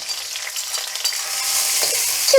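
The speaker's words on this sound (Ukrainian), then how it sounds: "м'ясо зарум'янилось, додаю цибульку" Onion hits a pan of browned meat for a soup-style pilaf, producing a soft, airy sizzle that builds gradually over a couple of seconds, with a few light clicks of stirring and no voices.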